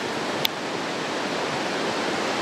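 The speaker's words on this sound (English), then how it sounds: "There's the waterfall" Steady, broad roaring rush of Wairere Falls, constant and full, with a brief click near the start.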